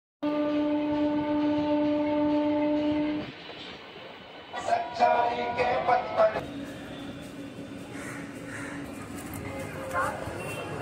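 Local train standing at Tarakeswar station platform, a loud steady horn blast in the first few seconds, then platform bustle with clanks and distant rumble as the horn fades.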